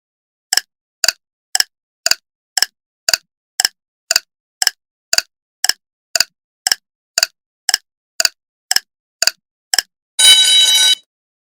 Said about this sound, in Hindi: मैं टाइमर लगा रही हूँ 10 सेकेंड का।